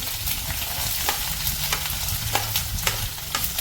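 Three dried red chillies, green chillies and shallots fry in hot oil in a pan for Kerala puli inji: a steady crackling sizzle with scattered sharp pops and light stirring scrapes throughout, close and fairly loud.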